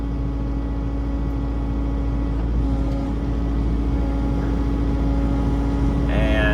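A skid loader runs a Rotastar RS4-9 screening bucket, its engine holding a steady, loud low drone throughout with a slight lift in intensity midway and a brief higher mechanical whine near the end.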